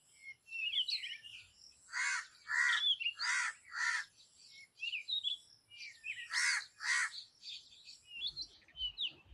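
Several crows caw in short repeated bursts, loud and fairly close, with smaller birds chirping between the calls and no talking.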